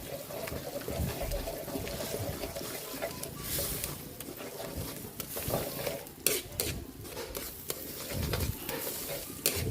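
Egg being stirred into a dish in a frying pan, with a steady sizzle underneath and scraping and clinking of a utensil against the pan, continuous and close.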